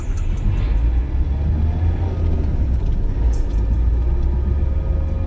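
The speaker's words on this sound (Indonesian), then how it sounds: "Mobil pun melaju dan kami mulai menjauhi rumah itu." A car pulls away in a radio drama scene, its engine a steady, loud low rumble that holds for several seconds with no voices over it.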